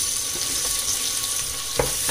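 Sliced tomatoes sautéing in hot oil with ginger-garlic paste for chana paneer pulao in a pressure cooker, making a loud, close, continuous sizzle with a brief stirring clack near the end and no talking.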